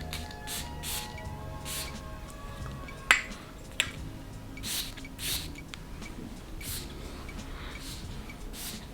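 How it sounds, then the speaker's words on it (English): Several short, soft spritzes from a perfume spray nozzle, spaced irregularly, with a sharper click or two among them in a quiet room. "Let's spray some on, see what we get."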